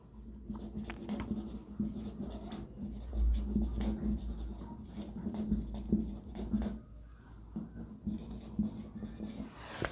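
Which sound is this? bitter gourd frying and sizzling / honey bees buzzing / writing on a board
writing on a board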